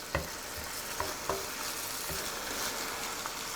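Courgette pieces and garlic frying in a pan of beef bolognese give a steady close sizzle, with a few soft stirring knocks and scrapes scattered through it and no voices.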